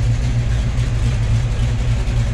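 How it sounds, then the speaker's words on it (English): A 1971 Dodge Challenger R/T engine idles steadily with a deep, low rumble, close by and continuous, with no other sounds. "Car sounds great."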